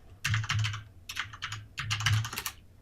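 Quick bursts of keystrokes on a computer keyboard as a title search is typed, three clusters of clicky taps with short pauses between, close and moderately loud, with no talking.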